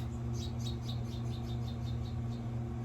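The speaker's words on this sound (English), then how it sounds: "I have the window open and you hear the birds chirping." Birds chirp outside an open window in a quick repeated series of short notes, heard through a steady low hum, moderately distant and fairly faint.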